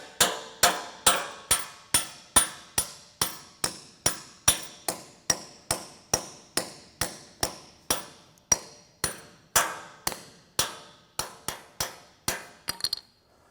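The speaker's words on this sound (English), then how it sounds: "and then pound her down into it." Roughly 25 sharp, evenly spaced hammer blows drive a 3/4 inch Red Head expansion anchor into a hole in a concrete garage floor, each strike ringing briefly, loud and close, with no talking.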